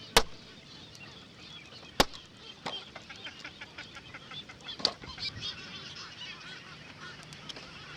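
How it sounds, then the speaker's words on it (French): Seabirds circling over Clipperton atoll in the Pacific give scattered honking calls and wing flaps, several sharp cries spaced across a background of wind and surf. "il y a tous ces oiseaux qui tournent autour"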